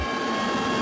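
A coast guard helicopter hovering over the open sea off Jeju, a steady, loud rotor and engine roar filling the whole short moment with no voices.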